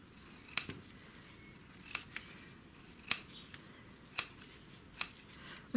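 Scissors trimming fabric scraps, with about eight crisp, separate snips spaced roughly a second apart, close and clear over a quiet background.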